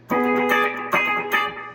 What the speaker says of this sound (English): you've got to have a way to mute the other strings, because you want it to sound like this